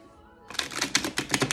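A deck of tarot cards is shuffled by hand, with a quick run of crisp riffling flutters and taps that starts abruptly and stays close and fairly loud.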